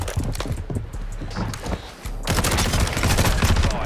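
Rapid gunfire from the Tempest Razorback in a competitive online shooter, dense bursts of shots running nearly the whole time, with a short lull before heavier sustained firing.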